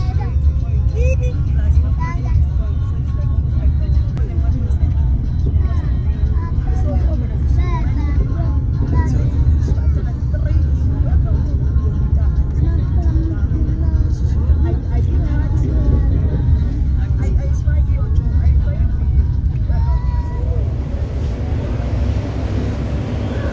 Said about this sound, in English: Hear the sounds of the bus.